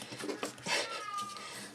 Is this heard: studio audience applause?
no